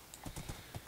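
Horse hooves clip-clop in Minecraft, a rapid run of quiet, evenly spaced hoof knocks with a brief whinny-like tone near the start, faint and close with no talk over it.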